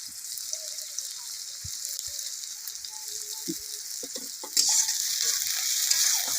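Garlic and onion frying in an outdoor pan while being stirred, a steady close sizzle with scattered scraping knocks and clinks of the spoon. The sizzle grows louder partway through.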